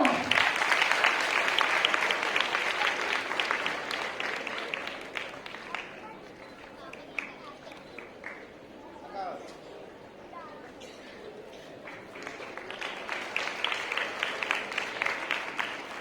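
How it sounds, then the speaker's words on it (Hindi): Audience at a coaching institute award ceremony claps for honored successful students. Dense applause at first, thinning through the middle, then swelling again, with faint voices underneath. "तालियां।"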